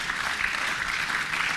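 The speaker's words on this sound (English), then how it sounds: "Can we clap for them as they come forward?" Audience at a Lagos automation festival applauding steadily as the core team comes forward, a dense, even wash of clapping throughout with no talk over it.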